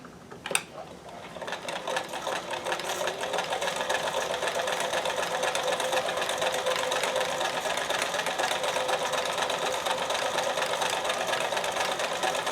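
A sewing machine, being adjusted for thread tension problems, stitches fabric in a steady, fast mechanical whir with rapid needle clatter, starting after a brief click and running continuously and fairly close.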